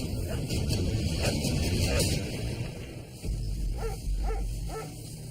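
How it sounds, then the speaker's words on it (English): Dogs bark and yip at a distance amid a noisy outdoor background in Alaska, with short broken bursts of barking. "Dogs barking."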